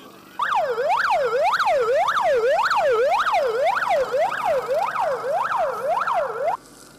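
Fire engine arriving at a staged mass car-crash rescue drill, its siren wailing in a loud, fast, steady rising-and-falling sweep repeated about a dozen times before stopping abruptly.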